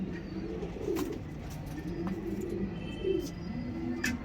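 Pigeons in a loft give repeated low, throaty coos, faint and rolling in gentle overlapping waves with no voices.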